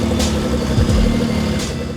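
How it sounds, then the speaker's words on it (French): A Renault RS01 Pikes Peak race car strapped to a dyno idles steadily to warm up, a loud, close, rumbling engine drone with a slight uneven pulse and no talk. "Ça chauffe, c'est juste pour chauffer la voiture là."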